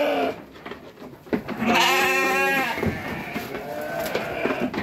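Garut sheep on a farm bleat in a loud, wavering call lasting about a second, with softer bleats and animal stirring around it.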